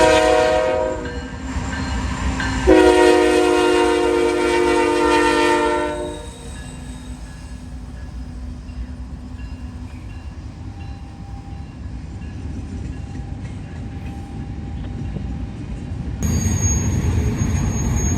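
A freight train powered by two ET44AC locomotives around an ES44AC rumbles past in Marion, Ohio, its horn sounding in long loud blasts early on before a steady rolling roar continues with faint clatter.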